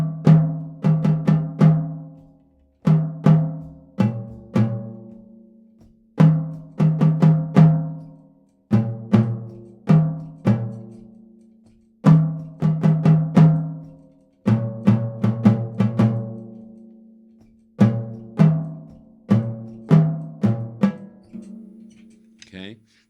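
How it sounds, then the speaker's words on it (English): Melody of a jazz standard played on a pitched instrument, phrased in short rhythmic groups of plucked-sounding notes that ring and decay, with brief gaps between phrases; clear and close, without talk. "So the melodic rhythm sounds like this."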